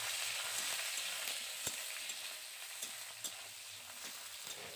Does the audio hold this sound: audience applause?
no